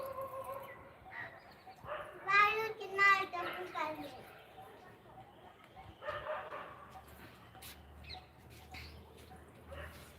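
A dog barks a few times in short, fairly faint bursts amid a quiet holiday outdoor scene, with children's voices and chatter around it.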